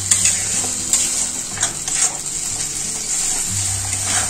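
Ground ginger, green chili and tomato paste with coriander powder and a little water fries in a pan, a steady sizzle with a spoon scraping and tapping against the metal close by.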